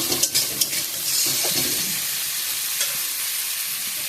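Spice masala sizzling in oil as it is stirred in a pan, with a few scraping clatters at the start, then a steady bright hiss of frying.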